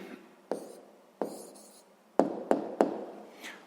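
Pen tapping and scratching across paper while writing out a sixth-grade math answer by hand, a series of short sharp taps with light scratchy strokes between them, close and fairly quiet, with no talking.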